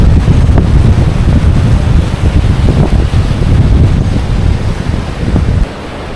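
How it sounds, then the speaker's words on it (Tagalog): Strong wind beside a fast-flowing river buffets the microphone in a continuous loud roar, with gusts and a low rumble like surf; it drops off abruptly near the end. "Lakas ng hangin"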